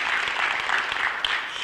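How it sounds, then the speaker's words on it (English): An audience at a business networking event claps for the organizer, a brief, steady burst of applause heard fairly faintly with no talk over it. "we want to give Miss Anna the round of applause"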